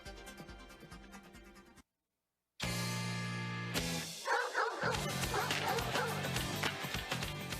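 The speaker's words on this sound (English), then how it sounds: "Nothing like dogs barking in the morning to wake you up." Dogs bark in the morning in a busy mix of yips and bow-wows over music, broken by a short silence, then continuing loudly with layered barking.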